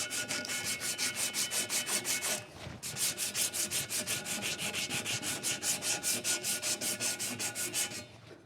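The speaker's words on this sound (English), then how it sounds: "Got to sand the back here because it's got some kind of a coating on it." A bicycle seatpost tube is sanded by hand to strip a coating from it, in a fast steady rhythm of close, loud abrasive rubbing strokes with one brief pause partway through.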